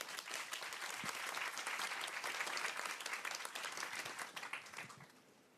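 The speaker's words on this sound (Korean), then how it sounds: "박수로 맞아주세요." An audience breaks into warm applause to welcome a speaker to the stage at a public talk, dense steady clapping for several seconds that fades out near the end.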